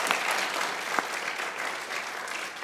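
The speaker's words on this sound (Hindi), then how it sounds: "बहुत तालियां बजाइए लाला के लिए भाई" A live comedy show audience applauding, dense sustained clapping from a crowd at moderate level, slowly tapering.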